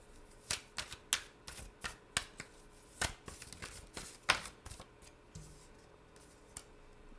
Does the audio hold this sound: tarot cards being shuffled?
yes